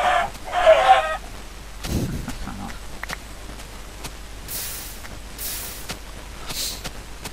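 A burning chicken in the Minecraft video game gives a few short synthetic clucks, loudest near the start, over a steady low game background with occasional faint crackles and no talking.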